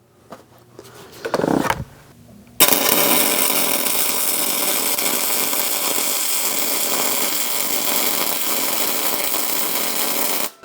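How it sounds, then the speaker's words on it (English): Arccaptain MIG250 MIG welder running at 28 volts with 600 inches per minute wire feed on 220 volts: a loud, steady crackling buzz that starts abruptly after a brief handling clatter and holds for about eight seconds. "Okay, that wire feed seems really fast, but it definitely welded."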